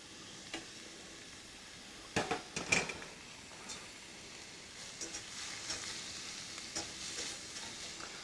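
Onions cooking down in a pan for Texas queso give a low, steady sizzle with occasional stirring scrapes and a few sharp clicks of a utensil against the pan, fairly quiet and close, with no talking.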